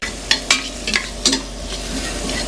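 Chopped onions sautéing in a pan for monggo, a low sizzle running underneath while a utensil stirs, giving several sharp scrapes and clicks against the pan early on before the sound settles into soft frying.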